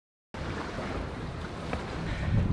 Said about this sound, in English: It's nice having a crew sail the boat for us.